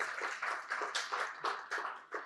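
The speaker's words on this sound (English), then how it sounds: "we'll give a little clap" A small symposium audience gives a brief round of clapping at a closing session, a soft, rhythmic patter of hands with no voices.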